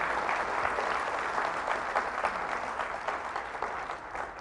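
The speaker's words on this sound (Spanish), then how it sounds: "Fuertes aplausos al Rey de Reyes y al Señor de Señores" A Catholic congregation at Padre Bernardo Moncada's healing service bursts into loud applause for Jesus Christ, a thick, sustained roar of clapping hands that fills the space evenly and fades slightly at the end.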